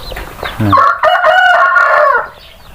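A rooster crows loudly and close by, one long drawn-out call, preceded by a brief cluck.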